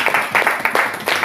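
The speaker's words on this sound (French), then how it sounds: "Applaudissons pour le Seigneur alors." A church congregation applauding for the Lord, a moderate burst of many hands clapping with a loose rhythmic pulse, fairly close and steady for its short length.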